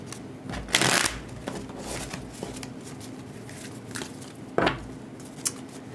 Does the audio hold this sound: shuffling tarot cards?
yes